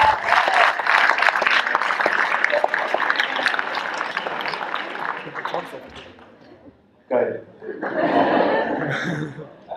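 Audience at an integration evening in Bottrop laughing and clapping loudly, fading toward the middle, then a fresh burst of applause and laughter near the end, with voices mixed in.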